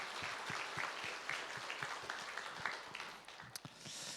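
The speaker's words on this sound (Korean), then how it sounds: "다시 한번 부활하신 주님 앞에 큰 박수로 한번 영광 올려드리겠습니다." Congregation applauding during an Easter church service, a dense, steady patter of many hands clapping that sounds somewhat distant and subdued across the whole stretch.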